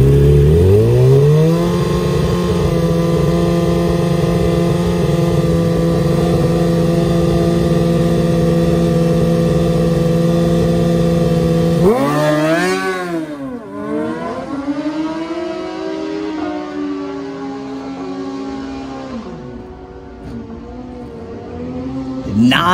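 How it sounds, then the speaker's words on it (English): A stock Kawasaki ZX10 superbike launches in a drag race, the engine holding a high steady wail before the revs sweep up and down through rapid gear changes, loud and close with no talk. "getting a stock wheelbase bike to accelerate as quickly as possible"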